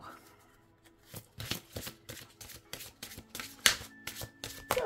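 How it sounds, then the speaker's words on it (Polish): Archangel Michael oracle cards shuffled by hand nearby, a series of crisp riffling bursts that grow denser and louder over a few seconds, with no voices. "Wyciągniemy sobie karty."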